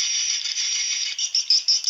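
Swiftlet chicks calling in a recording, a steady high-pitched buzzing chatter that runs without pause, growing into short pulsed bursts near the end; close and fairly loud, with no talking.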